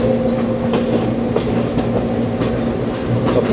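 Steady close rumble of the Subak Raftar railcar running on rails between Rawalpindi and Lahore near Wazirabad Junction in monsoon weather, with rhythmic clickety-clack wheel beats over a droning hum and no talking.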